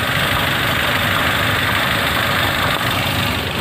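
A car engine idles steadily with the AC compressor not yet running, a dense continuous mechanical rumble heard up close and loud without pause.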